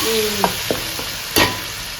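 Tomatoes frying in a pan with a steady sizzle, broken by a few sharp scrapes and knocks of a spoon stirring, close and loud without any talk.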